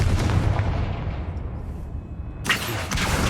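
A Confringo blasting spell explodes in the video game Hogwarts Legacy, a loud booming blast with a rumbling tail, followed by a second sharp burst near the end.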